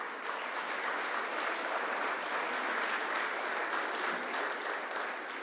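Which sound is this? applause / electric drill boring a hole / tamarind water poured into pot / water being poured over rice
applause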